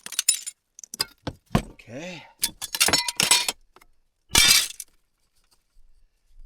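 Glass is smashed hard and shatters during a contaminated cabin cleanup, as a window gasket pops loose. Several sharp crashes and tinkling shards come close up, mixed with brief speech.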